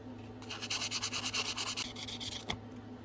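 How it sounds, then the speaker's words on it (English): A Case stockman knife from 1940–1964 with a genuine stag handle being sanded by hand with 600 grit sandpaper: a close, steady run of rhythmic rubbing strokes that then tapers off, with no voices. "Let's get us a fresh piece of sandpaper. Starting with our 600 grit."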